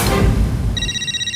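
A telephone starts ringing in a home, a steady electronic ring tone entering after rumbling noise and continuing alone, fairly loud and close.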